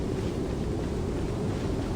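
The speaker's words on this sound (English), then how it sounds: "Got a little bit windy here after Storm Terror." Wind blows in Genshin Impact near the Knights of Favonius headquarters, a steady, low rumbling gust that stays even throughout with no voices.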